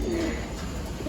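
A heavy pet bird, a kept pigeon or dove, gives a soft low coo close by over a steady background hum.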